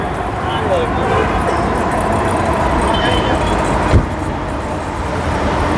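A Honda CR-V with a 2000cc engine idles steadily, a loud continuous hum and whir close by, while people talk over it.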